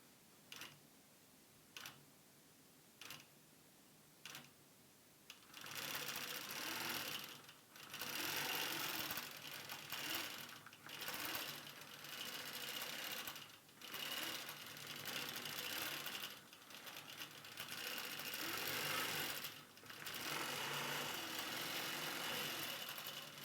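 A computerized sewing machine quilts a baby quilt. It starts with a few slow, separate stitch ticks, then settles into a steady, loud mechanical hum with rapid needle chatter and brief pauses, close up.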